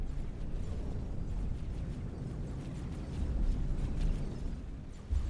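Heavy graviton turret cannon fire in the space game X4, a dense rumbling barrage of explosive booms that swells and peaks near the end, loud and continuous with no talking.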